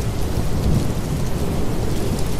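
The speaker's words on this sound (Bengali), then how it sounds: "কর্কর শব্দে বাজ পড়ে কান দুটোকে যেন তালা ধরিয়ে দিল। এইবার শুরু হলো ভীষণ বেগে বৃষ্টি।" Heavy rain pours in a dense, loud roar with a deep rolling rumble of thunder underneath, continuous throughout.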